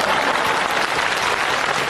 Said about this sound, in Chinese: 就这还得鼓掌